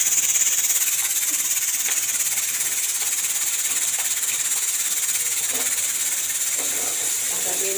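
Potato and sago chakri fry in hot oil with a continuous bright hiss and faint bubbling that holds steady throughout.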